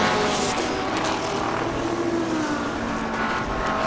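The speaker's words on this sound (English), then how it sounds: "NSX breezing on by." A Honda NSX GT race car sweeps past on a circuit during a Thai Super Series qualifying session, a loud engine roar with a falling pitch as it passes, trailing into background track noise.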